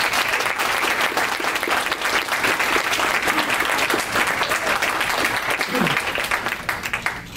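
Audience applause for candidates at a Democratic congressional debate, a dense, steady round of clapping from a room full of people, with a voice briefly heard near the end.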